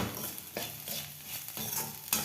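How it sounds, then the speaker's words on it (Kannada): Lady's finger (okra) curry fries and is stirred in a pan, a soft continuous sizzle with spoon scrapes and clinks at about 0.6, 1.6 and 2.1 s, close and quiet with no voices. "ಪುರಿ ಸಣ್ಣ ಇಟ್ಟು ಈ ಥರ ಫ್ರೈ ಮಾಡ್ಕೊಳ್ಳಿ."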